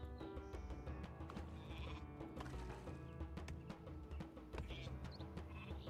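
Sheep bleating in the strategy game Northgard, repeated wavering bleats over a dense in-game music and ambience bed, fairly quiet overall.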